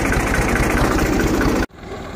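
Tractor engine on a farm during rice planting, running with a steady loud rumbling idle that cuts off abruptly near the end, followed by a quieter low engine hum.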